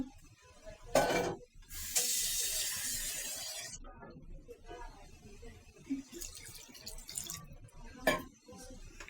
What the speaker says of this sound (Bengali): সামান্য একটু পানি দিব।